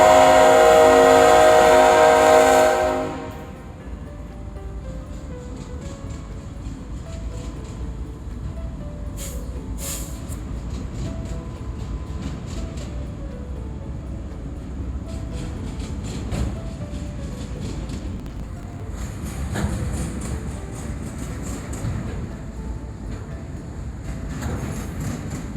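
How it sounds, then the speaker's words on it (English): A loud train horn sounds briefly at the start, then a train rumbles past steadily, with occasional squeals and clatter from the rails. "I did catch two trains passing essentially one on top of the other."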